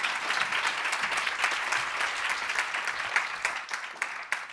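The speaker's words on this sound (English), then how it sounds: "Big round of applause." Steady, dense applause fills a room as the audience at a consumer summit claps continuously, moderately loud and fading slightly toward the end.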